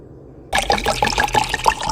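Milk poured into a cup for a latte, a steady close liquid trickle that starts abruptly and runs on without voices.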